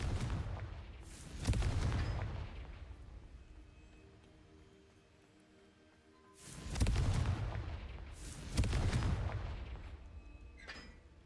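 Confringo blasting spell explosions in the Hogwarts Legacy video game: two loud, booming blasts, each with a sharp crack and a rumbling tail, separated by a quieter stretch of low ambience.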